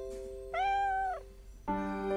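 Cat meows in the puzzle game Stray Cat Door: a clear, drawn-out meow followed after a brief gap by another starting meow, close and loud with a faint tone underneath.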